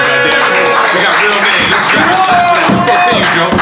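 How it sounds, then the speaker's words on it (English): People clap and cheer loudly in a podcast studio, a dense burst of applause mixed with shouting voices and lively crowd noise. "Let's clap for the goddamn real name."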